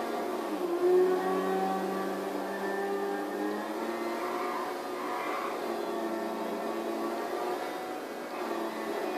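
A PCJ 600 motorcycle engine in GTA 5 holds a steady, droning whine close up, its pitch wavering and rising slightly as it revs, with no voices over it.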